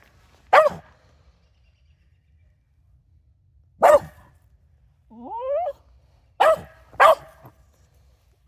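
A dog barking at another dog on a hiking trail in Western Washington: single loud, sharp barks spaced several seconds apart outdoors, with a short rising whine between them.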